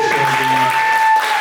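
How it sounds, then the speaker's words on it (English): Applause from a theatre audience after a live stage show, a dense wash of clapping under a steady tone and some voices, continuous through the short stretch. "Yes, you can applaud."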